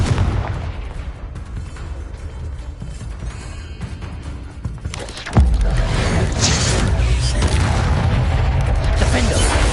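A Confringo blasting spell in Hogwarts Legacy on PS5 Pro, a sudden heavy boom midway that lifts into a sustained loud rumble of combat effects over busy game sounds.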